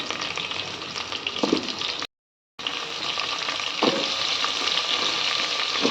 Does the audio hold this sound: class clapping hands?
no